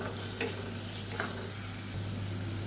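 Tomato with ginger garlic paste sautés in a pan with a steady, soft sizzle and a few faint stirring scrapes, heard close and alone.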